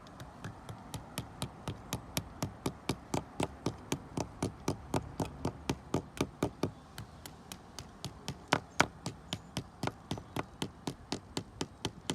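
Steady, rapid hammer blows driving wall plugs into a wall, dozens of sharp regular strikes in a quick even rhythm, close and fairly loud with no talking.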